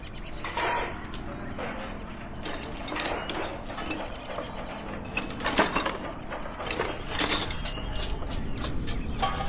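Engine cowling fasteners on an aircraft are unscrewed in Plane Mechanic Simulator, producing busy repeated ratcheting clicks and mechanical rattles over a constant background hum, with no speech.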